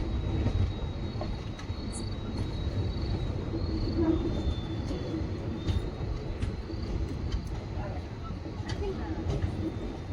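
A Hospet to Davangere passenger train rolls along near Kotturu with a steady, continuous low rumble of wheels and carriages, heard from on board with faint voices under it.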